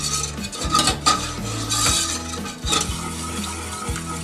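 A whisk works through milk sauce thickening in a pan for spinach lasagna, with steady, repeated scraping and clinking strokes against the pan, loud and close, without any talking.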